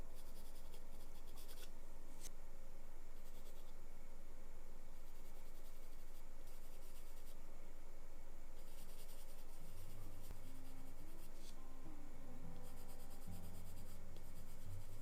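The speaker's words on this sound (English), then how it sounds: "I will come back with a charcoal pencil to really strengthen those deepest and darkest values" Charcoal pencil scratching and rubbing across paper while darkening the deepest values of a drawing, a steady close, soft scraping texture with gentle strokes throughout and no talk.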